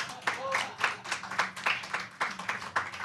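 Audience clapping in rhythmic bursts, a steady patter of many hands at moderate distance, fairly faint, with some voices mixed in.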